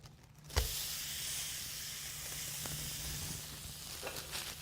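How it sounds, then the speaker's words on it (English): Two lamb burgers drop into a hot pan and a sudden hiss starts, settling into a steady, moderately quiet sizzle with a few small pops and no talk. "Go ahead and place these 2 burgers into a hot pan."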